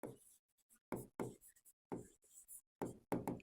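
Pen scratching out a maths solution on paper, short bursts of writing strokes separated by brief pauses, close and fairly quiet with no talking.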